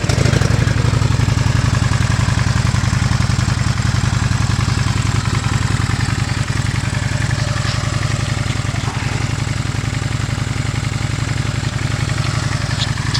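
A 2020 Honda Shadow Aero 750 motorcycle idling close by, a loud, steady low engine throb with an even rhythmic pulse that runs throughout without a break.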